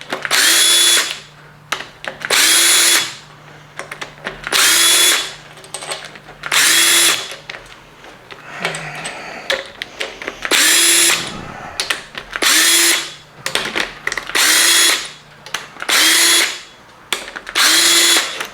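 An impact gun loosens bolts on a Ford 302 V8 engine in loud, repeated bursts, roughly nine or ten rattling whirrs of about a second each, separated by short pauses, close up with no talk.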